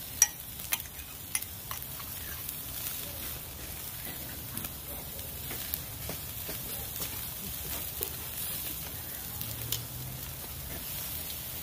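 NY strip steak searing in a pan while being basted with butter, a steady spattering sizzle with scattered pops and clicks, moderately quiet throughout.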